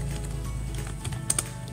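Computer keyboard being typed on, a quiet run of soft key clicks under a steady low background hum, with a couple of slightly sharper taps near the end.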